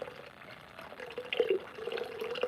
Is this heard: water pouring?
yes